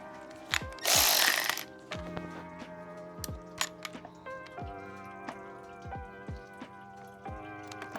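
Ratchet backing out a T25 self-tapping screw from the radiator of a BMW N54 engine, giving repeated short metallic clicks in spaced bursts, close and fairly quiet, with no talking.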